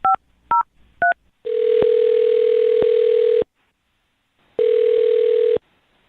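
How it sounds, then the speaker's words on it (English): Three short touch-tone dial beeps give way to a steady telephone ringback tone that sounds twice in long, loud bursts separated by silence, clean and close with no talking. "I'm going to dial his phone number right now"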